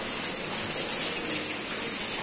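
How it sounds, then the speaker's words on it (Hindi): Rain falls steadily under sunshine, a dense, even hiss of drops close by with no breaks. "ऐसा बारिश हो रहा है, इधर धूप भी है और बारिश भी हो रहा है"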